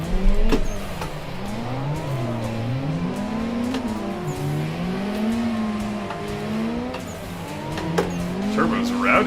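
A drift car in the Assetto Corsa racing game revs hard and continuously, its turbocharged engine pitch swinging up and down as the tires squeal through slides. Loud and close throughout.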